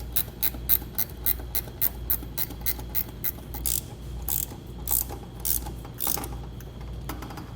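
A ratchet snugs down the bracket bolts on a Blue Ox KarGard protective shield for a towed vehicle. Quick bursts of sharp, close clicks repeat stroke after stroke, with short pauses between them.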